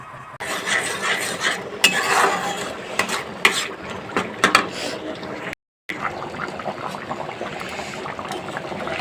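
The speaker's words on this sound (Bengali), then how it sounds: "আর এদিকে মাংসটা এখনও ফুটবে" Chicken curry bubbling steadily in a pot, a continuous close simmer broken by occasional clinks of a spoon or utensil against the pot and one brief dropout.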